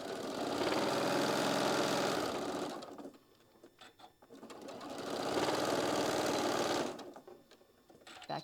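A sewing machine stitching a quarter-inch seam on a fabric puff pouch runs in two loud, steady bursts of rapid mechanical whirring, each lasting a few seconds and separated by a quiet pause with light handling noises.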